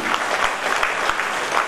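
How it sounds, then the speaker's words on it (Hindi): Applause from a seminar audience, steady and continuous clapping filling the room for the whole stretch with no voices on top. "जबरदस्त ताली अपन दियो"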